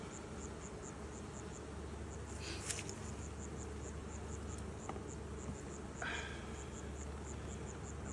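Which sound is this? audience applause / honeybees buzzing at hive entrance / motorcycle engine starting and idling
honeybees buzzing at hive entrance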